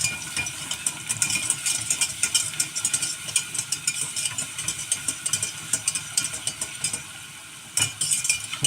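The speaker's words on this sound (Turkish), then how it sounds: "yaklaşık iki kaşık kadar salçamızı kavuruyoruz" Tomato paste, about two spoonfuls, sizzles and fries in a pan for a Turkish soup, with a steady crackling hiss and occasional stirring scrapes and clinks close up, no talking.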